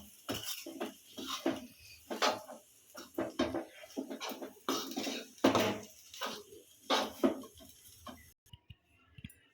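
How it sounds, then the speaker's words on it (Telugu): Metal utensil scrapes and clinks against a pan as Maggi noodles are tossed with masala, in a quick irregular series of strokes, fairly close and with no talking, ending in a brief quiet. "ఇంత బాగా మిక్స్ చేసుకుందాము, మసాలా అంతా మ్యాగీకి పట్టేటట్లా"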